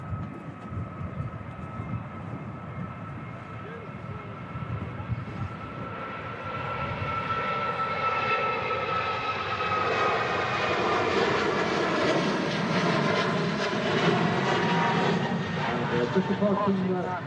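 A departing Airbus A330 at Manchester Airport roars up from a low rumble into a loud, sustained jet engine noise on a windy day, with people talking over it.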